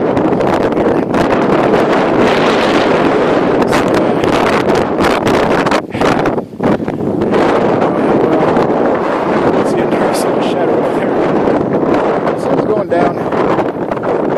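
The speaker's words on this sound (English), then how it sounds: "Well, the wind's kicking up." Strong wind buffets the microphone on a hillside hike near a lake in November, a steady roaring rush that stays loud for the whole stretch, with one brief lull midway.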